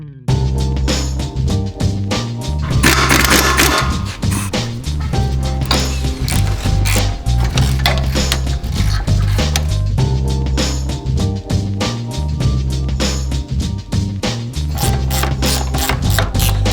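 Wrench ratcheting in a timed wrenching race: dense, rapid clicking that runs nonstop for the whole stretch over a steady low musical drone, loud and close.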